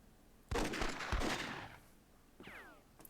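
A loud burst of rapid gunfire erupts in the Myth II: Soulblighter battle and lasts about a second before fading, followed by a shorter swishing whoosh.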